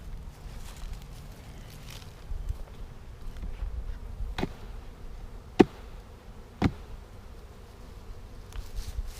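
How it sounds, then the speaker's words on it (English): Honey bees buzzing softly as they are knocked off a brood frame, a low steady hum broken by two sharp knocks or taps near the middle. "we're going to knock all these bees off to make sure we don't add the queen to that package"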